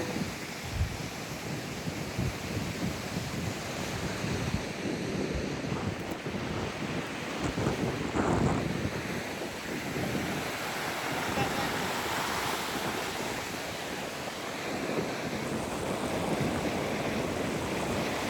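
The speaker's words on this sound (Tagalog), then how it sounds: "Ang grabe namang lakas ng hangin, ng agos." Strong wind and rushing surf at Dagupan beach, a steady loud roar of waves with wind buffeting the microphone, continuous throughout with faint voices underneath.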